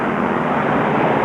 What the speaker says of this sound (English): attempting to join the planes as they roar by